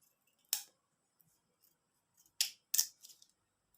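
Scissors cut through a recycled plastic straw in three or four short, crisp snips at a close distance, with brief quiet gaps between the cuts.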